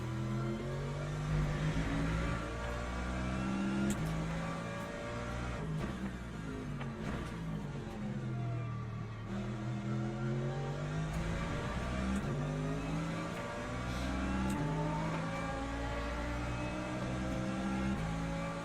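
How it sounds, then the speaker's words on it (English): LMP2 prototype race car engine in the Le Mans Ultimate racing game, a steady loud drone with rising and falling pitch sweeps as it revs through gears, sustained throughout with no talk. "Here comes an LMP2, he'll have to wait."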